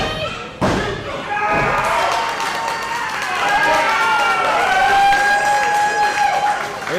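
A professional wrestler hits the mat hard from a running thunder bomb, a sharp thud ringing out over an excited arena crowd, with a commentator talking throughout.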